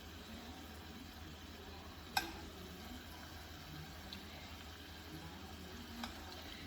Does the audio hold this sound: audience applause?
no